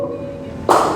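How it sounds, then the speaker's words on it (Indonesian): A group claps their hands together on command, landing as one short, sharp burst of clapping after a quiet moment. "Oke, tepuk."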